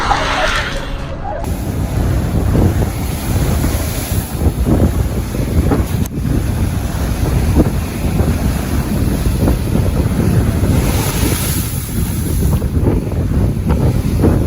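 Loud, steady wind roars and buffets the microphone without pause during a storm on a beach in Jaffna, with surf churning underneath in a continuous stormy rush.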